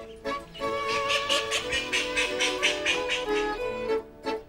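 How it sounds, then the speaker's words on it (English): A brood of ducks kept at a home in a village outside Canterbury quacks in a close, steady run of repeated calls with no talking. "they live with a brood of ducks"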